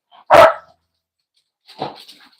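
A playful pet dog barks twice indoors, close and loud: one sharp bark, then after a pause a softer, higher yip-like bark.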